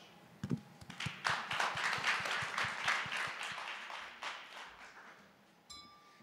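Audience applauding panelists at the end of a live conference panel at BUIDL Asia 2024, a dense burst of clapping that swells and holds, then tapers off, with scattered sharper claps near the start.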